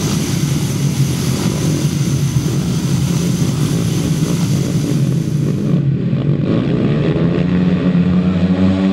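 350cc grasstrack racing motorcycles at the 2008 British Grasstrack Championships roar together at the start of a race, a loud, dense, continuous engine din that shifts in tone partway through.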